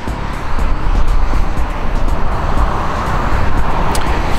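Steady road traffic noise on the Meadowbrook Parkway, heard from beside a 1993 Jeep Cherokee Sport 4.0 with a trailer hitch. It is a continuous, fairly loud broadband rumble with no talk.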